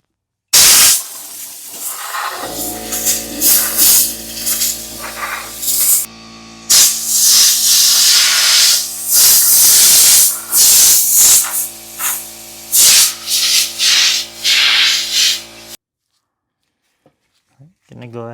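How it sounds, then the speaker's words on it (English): Compressed air blasting debris from a Lexus GS300 radiator in loud, hissing bursts of varied length with short gaps, up close, then stopping abruptly into near silence. "got our compressed air. Time to blow some junk out."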